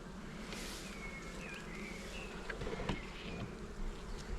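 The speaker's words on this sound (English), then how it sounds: "Bees on the lid there." Honey bees from a recently collected swarm buzz around a hive lid, a steady close-up droning hum with individual bees whining past, outdoors and without voices.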